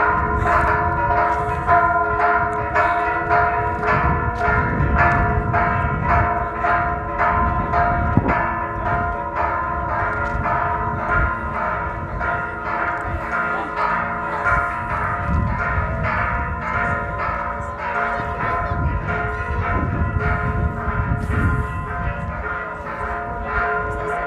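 Church bells at the Sanctuary of the Virgin of Remedies in Cholula ring loudly and continuously, overlapping rhythmic peals with a rich resonant ring sustained throughout.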